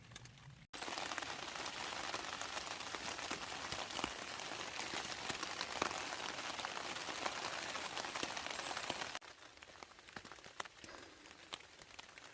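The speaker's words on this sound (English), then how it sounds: "I am still in my tent, but I'm about to get out in the rain to get started again." Steady rain drums on a tent, a dense close patter of drops that runs unbroken for about nine seconds, then drops to a quieter, sparser pattering at the end.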